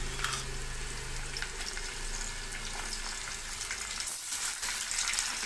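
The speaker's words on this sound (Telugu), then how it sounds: "ఇప్పుడు కరివేపాకు వేసుకున్నాను, ఇప్పుడు వంకాయలు వేసుకున్నామండి." Eggplants frying in hot oil with curry leaves for a stuffed brinjal curry, giving a steady, close sizzle that continues throughout with small crackles and occasional stirring noises.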